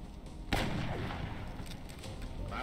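Gunfire in the XCOM Long War video game: one sharp shot followed by a rattling burst of rounds, with reverberant booms trailing off over a low rumble.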